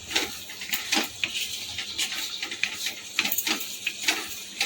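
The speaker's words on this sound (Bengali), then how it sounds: "ভালো করে নেড়ে চেড়ে নেব" A spoon stirs bottle gourd and moong dal curry in a metal pan, giving repeated close scraping and clinking strokes in a steady rhythm, with no voices.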